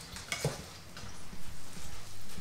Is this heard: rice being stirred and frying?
yes